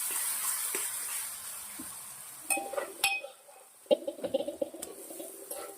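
Amaranth greens (tandalja bhaji) tipped into a pan of hot tempering with the flame off, soft rustling followed by a quick run of metallic clinks and taps against the pan over a faint sizzle.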